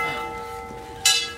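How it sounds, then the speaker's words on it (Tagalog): A temple bell in Japan, rung outdoors in fog, gives a sustained, ringing tone that decays steadily, with a short, louder burst of noise near the end. "Pinaparing nila yung bell guys."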